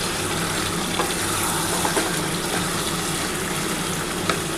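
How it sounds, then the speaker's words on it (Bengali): Water poured into a pan of chicken kosha, a steady close hiss and gush with faint sizzling under it and a few small clinks, no talk. "এবার আমি কিন্তু জল দিয়ে দিচ্ছি।"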